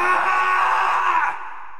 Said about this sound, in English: Snake even lets out a full-on scream of anguish.